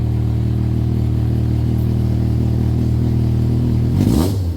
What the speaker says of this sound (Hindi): हल्की सी रेस दे, हल्की सी।